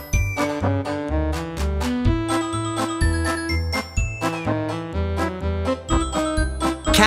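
Bells ring out a steady, tuneful melody, with bright tinkling notes struck one after another over a sustained ringing tone.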